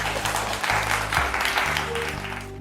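Loud, steady applause from a quiz competition audience rewarding a correct answer, dense clapping running throughout with a low musical drone beneath and no pauses.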